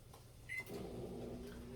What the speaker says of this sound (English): And we're gonna put this in the microwave.